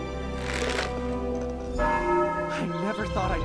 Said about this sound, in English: I never thought I'd be so happy to hear the ringing of a bell.